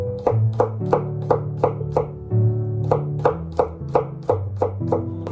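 A knife slices garlic cloves into thin pieces, giving a quick, steady run of about a dozen crisp chops close by, with no voices.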